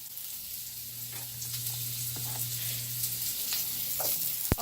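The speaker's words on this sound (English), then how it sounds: "I'm about to cook the squash right now, just because it takes a little longer to cook." Yellow squash frying in a pan makes a continuous close sizzle with a low steady hum beneath it and a few faint clicks and scrapes, ending on a sharp knock.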